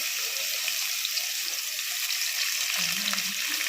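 Ginger and garlic frying in hot oil for chicken curry give a dense, steady sizzle, loud and close, with a brief low clatter near the end.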